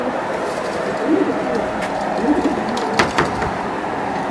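Pakistani teddy pigeons coo in a few soft, low rounded phrases close by, with faint chirps and light background noise around them.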